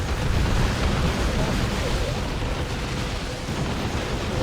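Stikk bomb grenades detonate in the Dawn of War 2 battle as a dense, loud roar of overlapping blasts, a continuous rumbling wash with no clear gaps between hits.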